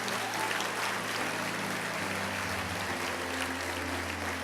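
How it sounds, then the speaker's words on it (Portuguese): A church congregation at an evangelism congress applauds, a dense, steady wash of many hands clapping at a distance, with a low hum and no clear voices over it. "Se é para Jesus, aplauda."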